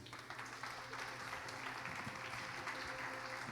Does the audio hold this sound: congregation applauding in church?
yes